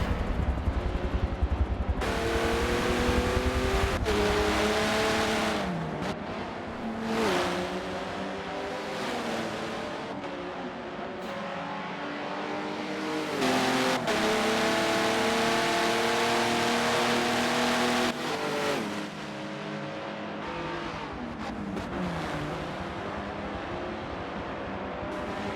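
Race cars circling Monza in a racing video game, engines revving and whining through repeated gear shifts and acceleration runs, several cars passing close and loud over a continuous drone of the field.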